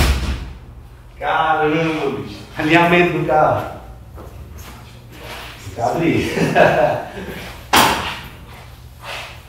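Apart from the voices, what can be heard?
door of a 1970 Volkswagen TL car closing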